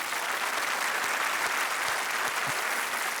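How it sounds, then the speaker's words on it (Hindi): Studio audience at a televised quiz show applauds steadily to welcome new contestants, a dense, even wash of clapping throughout with no talking. "मैं चाहता हूं कि आप सब लोग उनका हौसला बढ़ाने के लिए जोरदार तालियों के साथ उनका स्वागत करें।"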